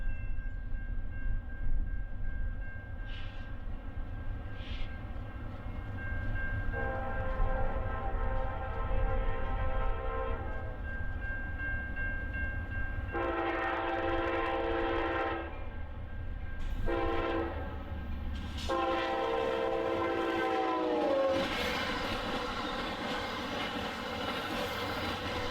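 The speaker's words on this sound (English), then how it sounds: "Amtrak's Blue Water, running an hour late from problems earlier in their run through Michigan, makes their final dash for Chicago" Amtrak Blue Water passenger train running late toward Chicago, a long steady low rumble of the passing train with several loud horn blasts sounding over it, the horn growing louder and longer near the end.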